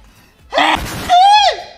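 A single loud, close sneeze: a sharp intake of breath, a burst of air, then a rising vocal 'choo' that trails off.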